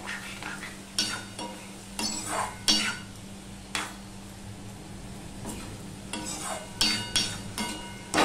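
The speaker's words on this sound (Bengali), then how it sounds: "আমার ভেন্ডি আলুটা প্রায় ভাজা হয়ে গেছে।" Okra and potatoes frying with spices in a pan, a soft sizzle under repeated scraping stirs and clinks of a spatula against the pan, close and uneven, with no talk.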